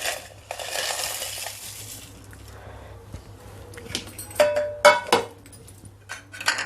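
Dried red chilies are tipped into a steel mixer jar in a home kitchen for peanut chutney. Light rattling scatters and hard clinks build toward a cluster of close, bright metallic hits.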